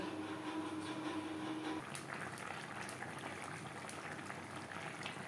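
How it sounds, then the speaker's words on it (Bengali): A pot of Bengali fish curry gravy with ridge gourd bubbles steadily on the stove, a soft continuous simmer with faint popping and crackling that thickens slightly midway, quiet and close with no one speaking. "গ্রেভি ফুটে ওঠা পর্যন্ত অপেক্ষা করব।"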